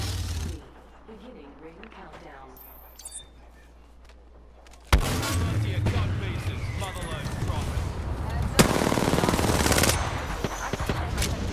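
Gunfire in the video game Apex Legends, rapid bursts of shots and loud game action under excited player talk, quieter at first then sharply louder and sustained.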